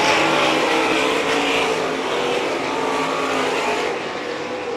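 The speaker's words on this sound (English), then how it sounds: "It's the 20G of Chris Graff still showing the fast lane around the quarter mile of play." Sprint cars race around a quarter-mile dirt raceway at a UMSS sprint car event, a loud continuous engine roar that holds steady throughout and dips slightly near the end, with no talk.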